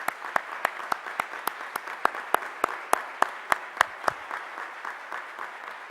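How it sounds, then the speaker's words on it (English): Applause for the Springbrook High School Choir at a Department of Justice event, a modest crowd clapping in a steady patter of sharp, distinct claps that thins toward the end, with no talk over it. "Let's give another hand of applause for them"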